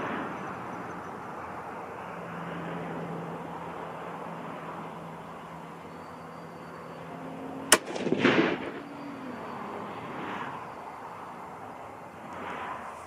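A single loud .243 Winchester rifle shot with a 95 grain load cracks sharply over a quiet outdoor background and decays in a rolling echo, with a faint steady hum beforehand.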